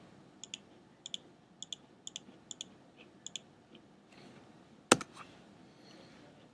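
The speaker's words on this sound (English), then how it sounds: "So if I just start clicking along" A computer mouse clicks in a quick, even series of faint taps while joints are placed one by one in a chain, then stops; a single louder knock and soft rustling follow near the end.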